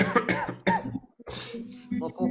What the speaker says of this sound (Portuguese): Vou poupar vocês aqui um pouquinho da tosse,